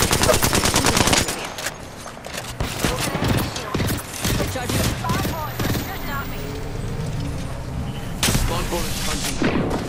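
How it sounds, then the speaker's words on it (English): Gunfire in Apex Legends, rapid automatic bursts and single shots crackling loudly and close, mixed with clanking game sounds, while a character voice speaks briefly in between. "Being shot at."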